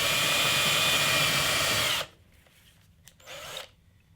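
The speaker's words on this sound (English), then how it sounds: "I've gone to using a hand drill for this one" A hand drill bores a test hole into an electric guitar body for a bridge install, a loud steady whir for about two seconds that cuts off, followed by faint scraping and handling.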